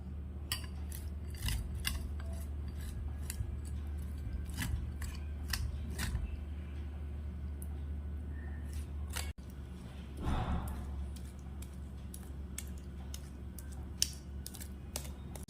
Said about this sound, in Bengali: এবার এই আম দুটো গ্রেটারের সাহায্যে গ্রেট করে নেব।